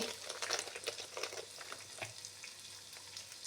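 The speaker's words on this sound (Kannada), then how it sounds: "ಒಂದು ಅರ್ಧ ಟೊಮೆಟೊ ಹೋಳುಗಳನ್ನು ಹಾಕ್ತಾ ಇದ್ದೇನೆ, ಅದನ್ನು ಕೂಡ ಇದ್ರ ಜೊತೆಗೆ ಫ್ರೈ ಮಾಡ್ಕೋತೇನೆ" Tomato pieces frying in a pan give a soft, even sizzle, with brighter crackling bursts early on that settle into a quieter hiss.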